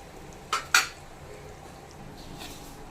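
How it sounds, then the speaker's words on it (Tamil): Two quick metallic clinks of a utensil against a pan or bowl while garlic gravy is transferred into a bowl in a home kitchen, close and crisp, then quiet. "நான் இது ஒரு பவுலில் ட்ரான்ஸ்ஃபர் பண்ணிடுறேன்"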